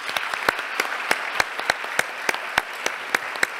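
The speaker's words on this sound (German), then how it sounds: "Applaus" An audience at an academic year opening ceremony and panel discussion claps in sharp, evenly spaced claps, fairly sparse and moderately loud, with no talking.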